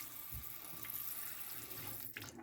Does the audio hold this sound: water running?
yes